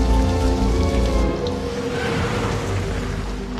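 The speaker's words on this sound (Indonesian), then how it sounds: "hujan deras membuat penglihatan Dontol terbatas" Heavy rain pours in a dense, continuous hiss, loud and steady throughout with a low rumbling undertone.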